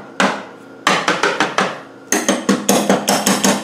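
A hammer taps sharply at a car's washer bottle mounting under the bonnet of a Land Rover 110, first in short clusters of three to four blows, then a rapid run of about eight loud, close metallic raps.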